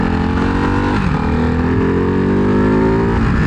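Ducati Hypermotard 698 Mono single-cylinder motorcycle roars loud and close under hard acceleration, the pitch dipping and climbing again as gears shift throughout.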